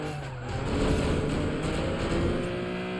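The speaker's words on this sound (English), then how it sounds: "We're already in a purple Honda Civic." A purple Honda Civic's engine drones steadily in a street racing game, rising into a louder rev after a brief dip and holding a sustained note with no voices.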